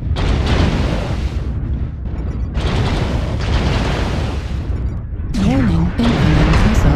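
Incoming missiles exploding in the video game MechWarrior Online, a dense run of loud booming blasts and rumbling impacts, with a synthetic warning tone sweeping in near the end.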